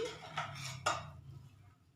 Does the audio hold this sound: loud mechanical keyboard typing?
no